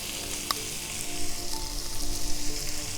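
Garlic sizzling and frying in a preheated pan inside a wood-fired pizza oven, a steady crackling hiss that swells after a sharp tap near the start, continuous and fairly close.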